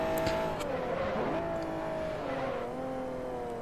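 Racing car engine in Forza Motorsport 4 during a league race: a loud, steady engine whine with rising and falling revs through gear changes, with a faint tyre squeal and no talking.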